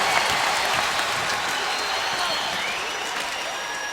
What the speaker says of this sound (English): the crowd here at the Tampa Bay Forum. Rise to their feet to salute the big man, Ben Bishop.